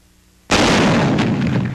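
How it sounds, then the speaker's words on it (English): A 1945 T-21 75mm recoilless rifle fires a single round in combat testing, a sudden, very loud, close blast that lingers as a broad roaring rush for over a second. "Combat testing the T-21, a 75mm recoilless rifle. Approximately 200 rounds are fired"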